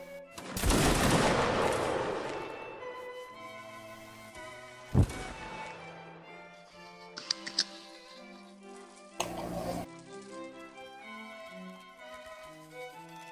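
Gunfire in a video game match, a loud burst of shots that decays over a couple of seconds, followed by a few isolated sharp cracks against a background of game music.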